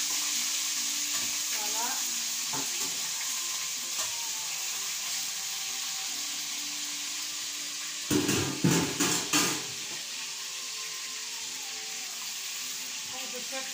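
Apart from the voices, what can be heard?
salted fish frying and sizzling in a pan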